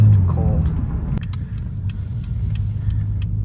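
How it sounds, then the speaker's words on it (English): A cold Mercedes-Benz driving at night, its engine giving a deep, steady low rumble from inside the cabin, with light clicks and rattles above it and brief talk near the start. "The car is loud right now since it's cold."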